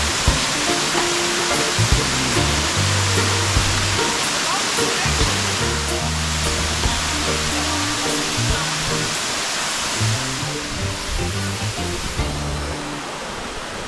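Powerful waterfall in Grenada, a strong steady roar of rushing water close by, broadband and continuous throughout, with voices murmuring faintly beneath it.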